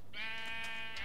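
A single sheep bleats once, clear and near, on a sheep farm in the video game Minecraft, with no talk around it.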